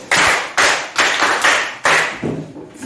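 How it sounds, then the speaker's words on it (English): Children in a literacy class clap for themselves in a handful of sharp, loud, close claps, roughly six separate bursts spaced about half a second apart, each fading quickly. "Clap for yourself."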